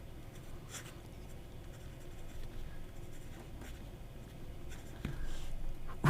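A fine fountain pen nib scratches quietly across paper in short strokes with soft taps, close and faint, louder toward the end.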